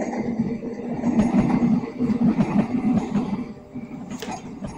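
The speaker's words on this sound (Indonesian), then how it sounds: "sebelah kanan saya itu mulai datang KRL dari Solo menuju ke Yogyakarta" A KRL electric commuter train, series KfW i9000, on the Solo–Yogyakarta line leaves Solo Balapan station and rolls past nearby with a rumbling, clattering rhythm at moderate loudness.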